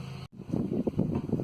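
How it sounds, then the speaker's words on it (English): Out by a backyard grill on a nice day, a lawn mower drones in the distance beneath gusty wind buffeting the microphone, with a brief dropout near the start. "You can hear the mower going in the background."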